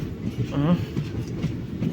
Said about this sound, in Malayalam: ഇപ്പോൾ നമ്മൾ തിരുവനന്തപുരം സെൻട്രൽ റെയിൽവേ സ്റ്റേഷനിലോട്ട് നമ്മളെ ട്രെയിൻ ഇപ്പോൾ എത്തും